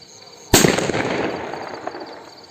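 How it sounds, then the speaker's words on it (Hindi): An old green bullet firecracker, lit during Diwali, goes off with one sharp loud bang followed by a crackling, hissing burst that fades over about two seconds, with no talking. "ग्रीन कलर का बुलेट है, थोड़ा पुराना है, इसे जलाते हैं।"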